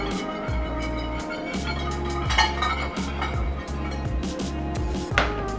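A spoon or spatula scraping and clinking against a metal pan while a thick seafood lasagna cheese and Alfredo sauce is smoothed over the bottom, a steady run of close, moderately loud scrapes and taps, with no talking.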